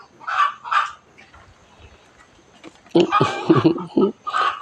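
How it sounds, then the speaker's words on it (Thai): Bursts of chicken clucking, several short calls in two clusters with a quiet stretch between, fairly close. "เสียงไก่กระตุกกระเตกอะเสียงไก่อะ"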